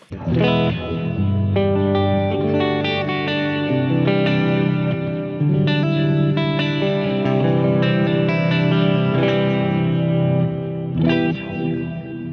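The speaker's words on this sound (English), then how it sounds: "that is the Terra echo. Let's firstly listen to it on a clean." Guitar on a clean tone plays chords and notes through a Terra Echo pedal, with a shimmering, reverb-like delay that smears each strum into a long, swelling wash, loud and close, with no voices over it.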